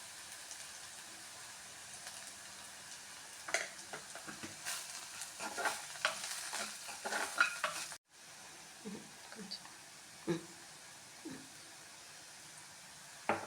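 Okra sizzles softly in a pan while being stirred, with scattered scraping and clinking strokes, a brief dropout midway, then quieter intermittent stirring over a low frying hiss.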